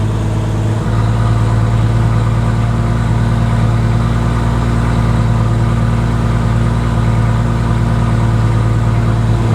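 A Ford GT350 with a swapped-in Barra engine runs steadily at a loud, close, deep idle, a constant low rumble with a slight rise in pitch at the start, with no voices.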